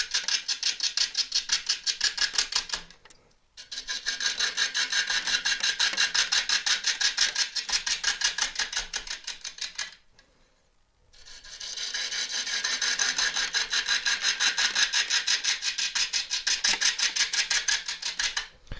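A half-inch gouge cuts an elm burr spinning on a wood lathe, giving a close, rhythmic rasping that pulses with each turn. The cutting runs in three long passes with two short pauses between them.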